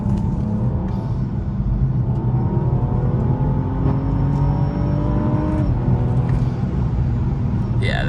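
A BMW 435i with a stage 1 tuned N55 engine accelerates hard, roaring loudly and rising steadily in pitch through the gears before a brief shift.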